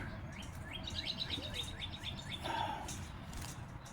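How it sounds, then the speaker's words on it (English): A female house sparrow chirps inside a trap, giving a quick run of thin, repeated chirps followed by a brief lower call, faint against steady outdoor background noise. "We got the female here. The female house sparrow"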